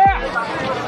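Crowd of people at the Dakor Ranchhodray temple on Guru Purnima day, a dense murmur of many voices and chatter close around, with a brief tonal sweep at the very start.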